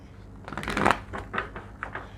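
Tarot cards are riffled and shuffled close by, a burst of quick flapping followed by a few softer shuffles.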